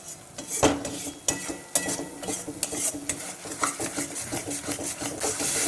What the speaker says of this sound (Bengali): এবারে টমেটো বাটাটাকে একটু ভালো করে কষিয়ে নেব